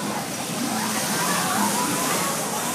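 Water at a water park pool sloshes and splashes in a constant, fairly loud wash with a faint murmur of people in the background.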